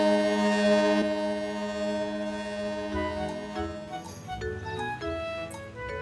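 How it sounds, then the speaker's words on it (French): A cartoon ferry's horn sounds in long, steady harmonic blasts as the boat nears the shore, loud and sustained, with fainter boat and water noise shifting underneath. "il laissa même Caillou faire retentir la sirène."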